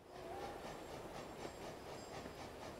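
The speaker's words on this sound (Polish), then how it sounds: "Słyszę pociąg." A train rolls past in Euro Truck Simulator 2 during a snowy Christmas winter event, a steady rumble with repeating clickety-clack of wheels and faint high squeals, moderately loud and with no voices.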